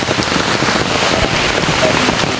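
Steady rain falls on an open rural farm field, a dense, even hiss of drops that stays constant throughout with no voices.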